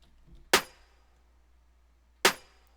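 Combined drum samples, a kick layered with two snares, hit twice about 1.7 seconds apart, each a crisp punchy crack with a quick decay against near silence.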